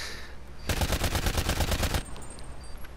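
Rapid burst of 74U submachine gun fire in a video game, a dense run of sharp shots lasting over a second, loud and close, with no talking during the volley.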